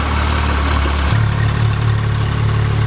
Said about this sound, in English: Turn on the sports exhaust.